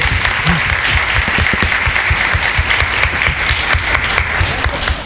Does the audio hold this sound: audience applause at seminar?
yes